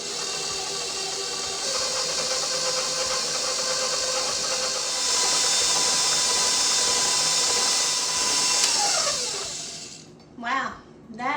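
A stand mixer beater with a scraper whirs steadily through chocolate cake batter, a continuous motor drone that drops in pitch and cuts off near the end, leaving brief handling noises.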